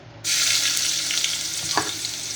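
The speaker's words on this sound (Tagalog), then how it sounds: "umpisahan na natin mag-gisa. Unahin natin, tungon natin ang ating luya" Ginger hits hot oil in a pan for a beef papaitan and sizzles loudly and steadily, with a brief stir or clink of the utensil near the end.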